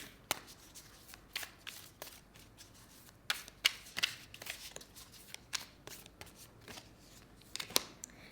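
Tarot cards being shuffled by hand, close and quiet, a string of crisp riffling slaps and flicks in irregular bursts, with soft rustling in between.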